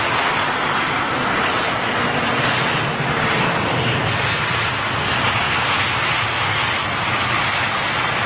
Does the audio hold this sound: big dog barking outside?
no